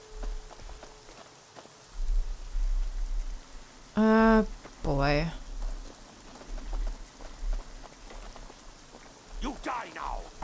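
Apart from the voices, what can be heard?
rain falling in the video game Fallout New Vegas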